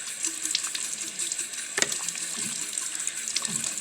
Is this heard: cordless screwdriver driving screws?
no